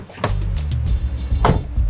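Two solid, tightly sealed door thunks from an older-technology Bluetooth truck camper motorhome, one near the start and one about a second later, each short and dull with a low rumble between them.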